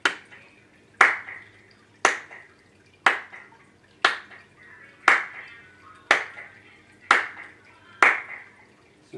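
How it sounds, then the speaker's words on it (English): Hand claps for a wireless video latency test, nine sharp, evenly spaced single claps about one second apart, each with a short ringing decay in a quiet room. "And we're going to do the same clap test."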